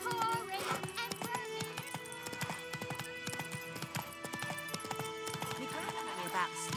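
Geralt's horse Roach gallops in The Witcher 3, hooves beating a fast, close, rhythmic clip-clop over a rough ground, steady throughout with music and voices mixed in.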